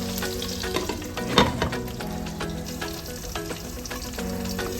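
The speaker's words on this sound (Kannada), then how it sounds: "ಇವಾಗ ಆನಿಯನ್ ಆಯಿಲ್ ಜೊತೆ ಚೆನ್ನಾಗಿ ಫ್ರೈ ಆಗಬೇಕು." Onion frying in oil for a kala chana masala, giving a steady close sizzle with brief stirring clatters and a sharper burst near the start.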